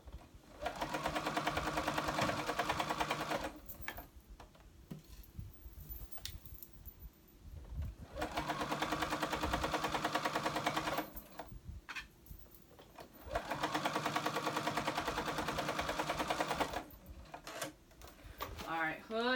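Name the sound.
sewing machine stitching hood onto blanket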